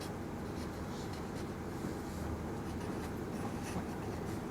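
Pen or chalk writing numbers during a class 3 maths lesson, a steady faint scratching under constant low background hum, with no talk.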